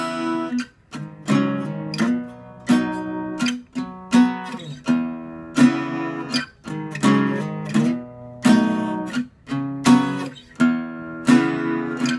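Acoustic guitar plays the riff of a song slowly, with repeated plucked chords and muted notes in a steady, even rhythm, clear and close.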